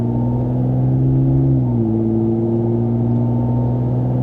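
A Ram RHO pickup with an AWE aftermarket exhaust accelerates onto a highway, its steady engine drone rising and shifting pitch partway through, close and loud throughout with no talking.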